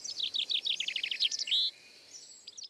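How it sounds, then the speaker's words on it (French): Birds sing in quick high chirping phrases, a bright run of repeated notes followed by a sustained whistle, then quieter scattered calls against a calm background. "Il y a les humains, les oiseaux"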